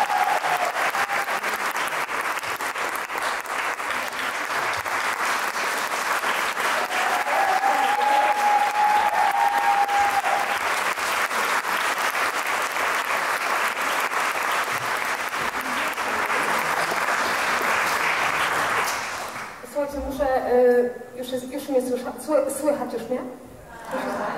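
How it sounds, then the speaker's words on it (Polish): An audience at an author meeting in Tychy claps warmly in sustained applause welcoming a speaker, loud and continuous for about twenty seconds before it fades and a voice begins talking. "Gorące brawa."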